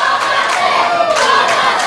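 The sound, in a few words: wrestling crowd pleading with wrestler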